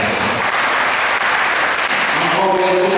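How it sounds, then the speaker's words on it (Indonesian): Church congregation at a Pentecostal Sunday service applauding loudly, a thick, sustained roar of clapping filling the hall, with a sung or spoken tone emerging near the end. "Beri tepuk tangan yang paling keras."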